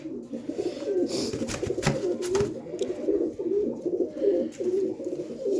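Low, rolling coos from a black-patched pet pigeon carry on throughout, with a burst of sharp clicks and flutters early on before the steady cooing resumes alone.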